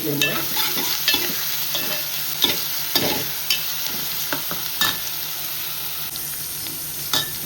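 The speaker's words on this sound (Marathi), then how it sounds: "अद्रक लसूण टाकूया आणि व्यवस्थित शिजून घेऊया" Ginger and garlic frying in a pan for chicken biryani, a steady hiss of sizzling oil broken by irregular sharp scrapes and clicks of a spoon stirring, close and fairly loud with no talking.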